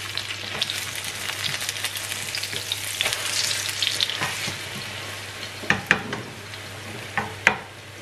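Thai omelette frying in hot oil, a dense close sizzle that runs throughout, with a few sharp scraping clicks near the end, no talking.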